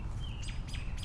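Outdoor bird chirping in nature, several short quick tweets in a rhythmic series, moderately distant over a low ambient rumble.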